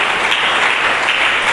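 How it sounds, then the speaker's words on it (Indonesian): A church congregation claps together at a worship service, a dense, steady wash of many hands applauding close around, sustained without pause. "Buka tanganmu, berikan tepuk tangan bagi Yesus Kristus."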